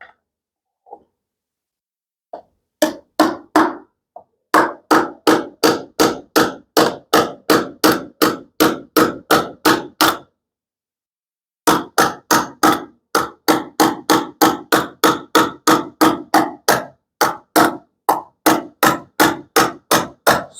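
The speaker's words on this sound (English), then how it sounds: "Hammer." Repeated hammer blows drive an implant into a bone model during a double-row rotator cuff repair demonstration, sharp rapid taps in long bursts, loud and close, with a brief pause midway.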